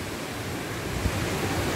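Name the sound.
waterfall splashing water at Grojogan Sewu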